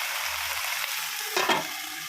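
Cabbage stir-frying with fish sauce in a pan gives a steady soft sizzle, then a brief louder burst of frying and stirring near the end, close up and without speech.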